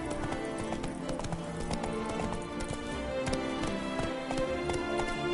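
Roach, a horse in The Witcher 3: Blood and Wine, gallops with steady rapid clip-clop hoofbeats over a continuous game soundscape, loud and close throughout.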